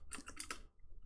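A few quick keystrokes on a computer keyboard, close and fairly soft, clustered in a short burst before falling quiet.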